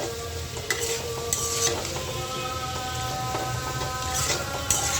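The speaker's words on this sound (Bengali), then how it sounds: "আমি তো আমার আলুগুলো ভাজা হয়ে গেছে এই দেখেন একদম সুন্দর করে লাল লাল করে ভাজে নিয়েছি" Potato pieces fry in a pan for a Bengali fish-head curry, giving a steady, close crackling sizzle throughout, broken by occasional sharp pops and light scrapes.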